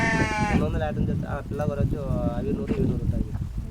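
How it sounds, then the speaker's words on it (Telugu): Several lambs bleat in quick succession, high and wavering, close by, with a person talking underneath and some low rumbling noise. "పిల్ల గొర్రెలు"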